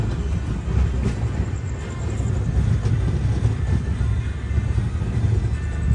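A train pulls into Satara railway station, a steady loud low rumble of the running train filling the scene from start to finish, with no talking.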